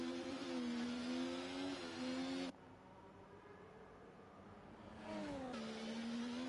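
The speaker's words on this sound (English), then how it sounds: "These still sound like Formula 1 cars" Formula 1 style race car engines in a racing video game at Zandvoort wail at high pitch, rising and falling through gear changes, with a quieter gap in the middle before revving returns.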